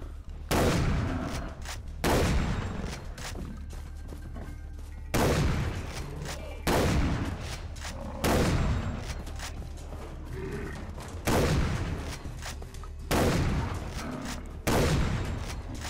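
Shotgun blasts while hunting buffalo in the video game Far Cry 3, with about ten loud, booming shots spaced roughly a second or two apart over a steady low rumble.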